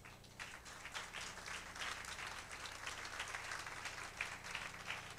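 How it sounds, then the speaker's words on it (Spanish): A church congregation keeps up faint, steady clapping throughout, with a low hum underneath and no voices. "Denle un aplauso a él."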